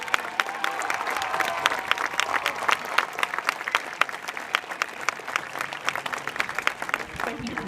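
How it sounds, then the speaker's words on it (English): Sustained, fairly loud applause from a large audience at a high school commencement ceremony, continuous clapping with a few voices and cheers mixed in. "Let's give them a round of applause"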